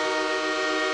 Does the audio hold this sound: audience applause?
no